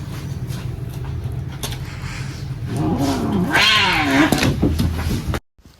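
A sick cat at a veterinary clinic meows loudly and plaintively, the drawn-out wavering cries rising in the middle of the clip over low background rumble before cutting off abruptly.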